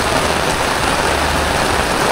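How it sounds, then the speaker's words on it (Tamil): Heavy rain pours steadily during a walk through Ratnapura, Sri Lanka, a dense, loud, unbroken hiss with no voices. "அதிக அளவான மழை பெய்து கொண்டு இருக்கு"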